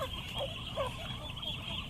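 High, thin peeping from a group of young chicks after a typhoon, in repeated short chirps over a steady hum.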